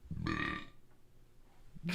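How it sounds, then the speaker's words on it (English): A man burps close to the microphone, one loud voiced burp lasting about half a second, followed by quiet and the start of another vocal sound at the end. "Hold on. I got to burp."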